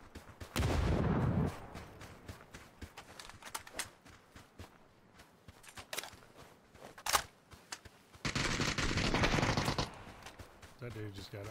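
Gunfire from enemy players in the battle royale game PUBG, with sharp bursts and a sustained heavy barrage, separated by scattered clicks and footstep-like taps at close to mid range.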